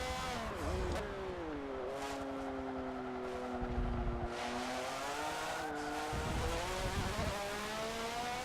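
A racing car in Forza Motorsport 7 spins out during a race, engine tone sweeping down and up with sustained whine and tire noise, loud and continuous throughout.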